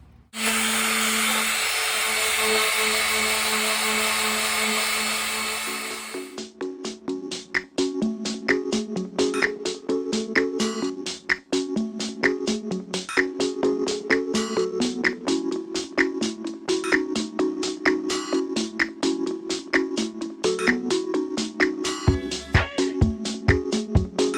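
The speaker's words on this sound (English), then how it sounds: "First things first, let's get the sanding." A 3D printed PLA helmet being sanded with a power tool. A loud continuous whir comes first, then quick rhythmic scratching and tapping runs steadily with no talking.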